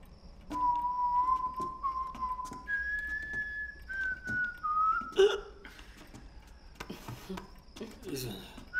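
A person whistles a sustained, wavering tune in short phrases that step upward in pitch, with soft rustling and a few sharp clicks between notes.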